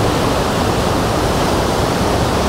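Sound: waterfall

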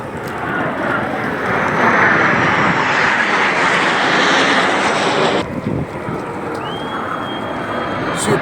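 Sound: airplanes flying over a celebration, writing 100 in the sky

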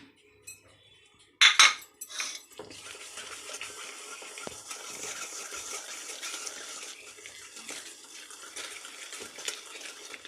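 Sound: mixing cake batter ingredients in a bowl

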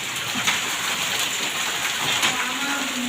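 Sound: rain falling after hailstorm

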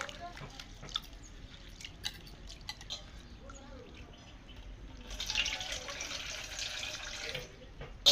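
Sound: toor dal being washed in water

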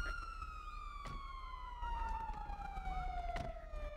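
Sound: police car siren in GTA 5 FiveM video game

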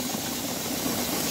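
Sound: tractor engine idling while maneuvering

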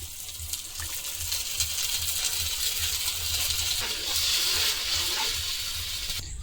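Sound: pouring a little water into nut paste

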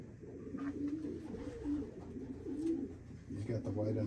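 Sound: racing pigeon cooing

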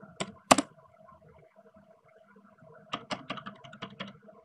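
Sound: typing on a phone keyboard

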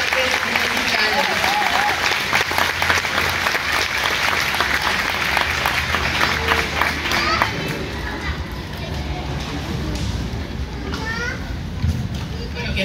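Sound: audience applause at choral concert

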